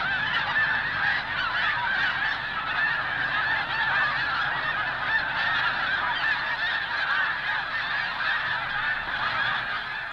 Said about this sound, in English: There are few more impressive sights in nature than Sand Lake Refuge when the fall migration of snow geese flies in.